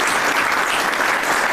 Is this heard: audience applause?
yes